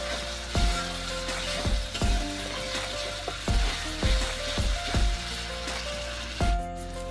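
Sliced onions and spices frying over a low flame for a rohu fish curry: a continuous loud sizzle broken by about eight regular clunks of a spoon stirring the pan, with steady tones in the background.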